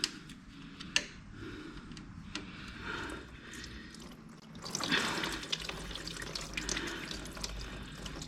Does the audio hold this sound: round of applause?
no